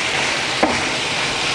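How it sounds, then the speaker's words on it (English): Bell peppers fry in hot oil for a plantain frittata, a loud, steady sizzle with one short scrape of stirring partway through. "I'm going to add our bell peppers. And that, like the other ingredients, is just going to stir in the oil for about 2 minutes."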